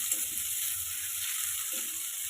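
Chopped onion and nigella seeds fry in oil left over from frying fish, a moderate, steady sizzle with soft crackling underneath and no voices.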